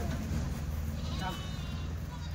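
Kathiawadi goats, hungry and newly arrived by truck, bleat amid steady low background rumble and a faint voice, with one brief wavering cry rising near the middle.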